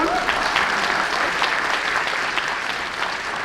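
A convention panel crowd gives a steady round of applause, many hands clapping in an even, sustained wash at moderate loudness.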